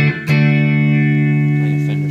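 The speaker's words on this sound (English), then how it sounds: "Just a little bit of reverb on there." A Fender Stratocaster rings out with a clean, sustained chord through a pair of Peavey Bandit amps in stereo with a touch of reverb, following a quick pick attack and letting the note decay smoothly and close.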